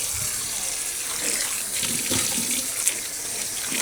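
Water from a running faucet splashes steadily into a sink while an item is rinsed under the stream, a close, continuous hissing wash with small shifts as the item moves.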